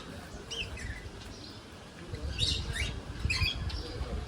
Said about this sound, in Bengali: এখানে একটা পাখি আছে।